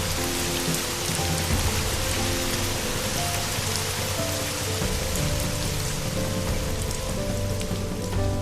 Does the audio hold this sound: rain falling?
yes